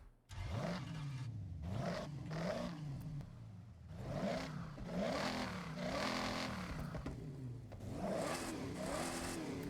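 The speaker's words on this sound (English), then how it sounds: "That was the real reason I wanted the exhaust, was the different exhaust notes" A Dodge Super Bee in the Forza Horizon racing game, fitted with an upgraded exhaust, revs over and over, each loud rising and falling blast of exhaust note followed by a short lift before the next.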